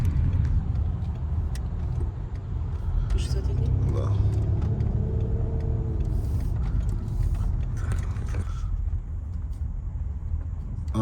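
A car rolls into a fuel station forecourt with a steady low engine rumble throughout, and people talk over it.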